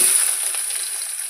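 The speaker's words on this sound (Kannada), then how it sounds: "ಈಗ ಎಣ್ಣೆ ಕಾದತೆ ಸಾಸಿವಿ ಜಿರಿ ಹಾಕೋತೀನಿ" A brief, bright sizzle of mustard and cumin seeds spattering in hot oil, close and steady throughout.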